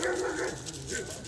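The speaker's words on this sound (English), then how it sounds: "There's a dog attack right there." A dog barks and whimpers in a brief, fairly close burst of yelps lasting about a second, with no talk over it.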